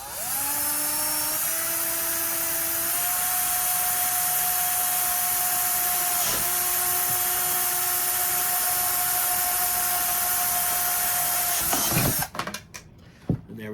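A small power drill bores rivet holes into a Glock 19 holster mold, whining at a steady high pitch for about twelve seconds, close and loud, before spinning down and stopping with a few clicks.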